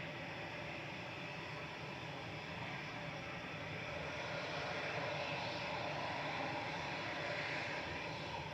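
Engines of an aircraft taxiing at Manchester Airport hold a steady, distant broadband whine and roar that stays even and continuous throughout.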